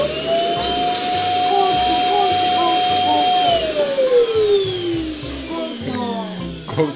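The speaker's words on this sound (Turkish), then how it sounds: "süpürgenin nasıl çekmiş değil mi Kinder'imizi?" A toy vacuum cleaner whines loudly with a high steady motor tone that sinks in pitch as it winds down, its suction having pulled in a Kinder Surprise egg, with voices around it.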